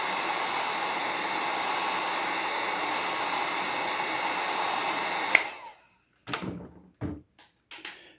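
A heat gun warms decal transfer tape on a model train flatcar, giving a steady, loud airflow hiss that runs for about five seconds and then cuts off, followed by a few short knocks and handling sounds.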